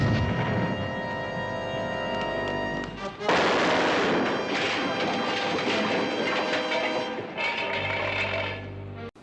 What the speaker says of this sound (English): firing their guns willy-nilly with no regard for the safety of civilians, each other, or anybody else